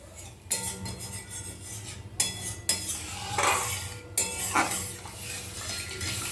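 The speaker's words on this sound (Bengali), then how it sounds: "খুব ভালো করে জলটা চারিদিক দিয়ে মশলাগুলো নিয়ে মিশিয়ে নেব" A spoon stirs spices and water in a pan for a kajoli fish curry, with repeated metallic scrapes and clinks against the pan over a soft background hiss.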